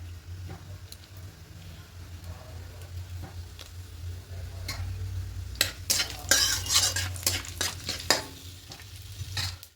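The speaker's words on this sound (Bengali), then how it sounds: "এবার দেবে গোটা গরম মশলা ফোড়নে দারুচিনি এলাচ লবঙ্গ আর দেবো গোটা জিরে আর দুটো শুকনো লঙ্কা দেবো" Whole garam masala (cinnamon, cardamom, cloves), cumin seeds and two dried red chillies fry in oil for tempering a cauliflower-potato curry, giving a low steady sizzle that breaks into sharper crackling and popping bursts toward the end.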